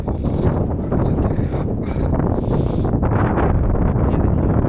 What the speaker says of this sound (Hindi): बाकी अपने मस्त ठंडी ठंडी हवा चल रही है